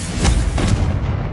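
Confringo spell blast in Hogwarts Legacy, two quick loud fiery bursts close together over a rumbling low roar, short and punchy with no talking.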